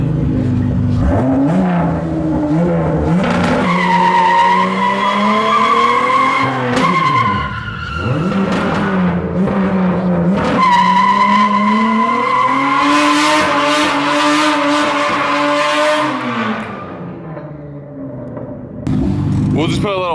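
A 1000-horsepower Bisimoto minivan does a burnout: an engine revs hard and tires squeal in long rising and falling wails, loud and close, with a brief dip in the middle and talk mixed in underneath.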